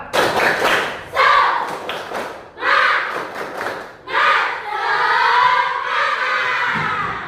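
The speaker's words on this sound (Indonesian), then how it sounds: "Tepuk semangat." Children's group spirit clap chant (tepuk semangat) in a classroom, loud bursts of rhythmic clapping and shouted voices in several phrases, ending in a sustained crowd cheer.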